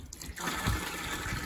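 Water from a 5-gallon bucket pours into a small stock tank on a truck, a brief slosh that starts abruptly and settles into a steady close gush of splashing liquid.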